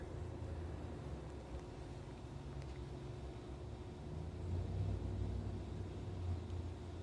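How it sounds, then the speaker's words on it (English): A car passes somewhere in the distance as a faint low rumble that swells briefly midway, set against a very quiet background near air conditioners. "That's somebody's car you can hear in the distance."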